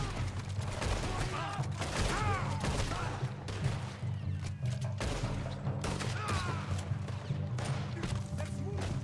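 Cannon blasts and rapid gunfire from a firefight on the Isle of Guarma in Red Dead Redemption 2, loud repeated bursts and booms throughout, with a voice speaking over the battle.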